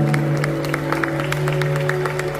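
Wedding guests in a hotel hall clap steadily together, a dense patter of applause over a constant humming background.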